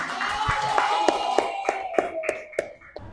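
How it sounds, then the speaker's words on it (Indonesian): Schoolchildren in a classroom clap for one another, a sparse, uneven run of individual claps over a faint voice, fairly close and moderate in volume. "Tepuk tangan untuk kalian semua."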